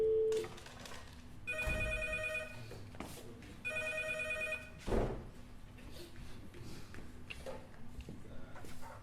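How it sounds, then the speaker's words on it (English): A telephone rings in two trilling bursts, with thuds and quiet room noise in between and after. "Look, I need to phone Sandra."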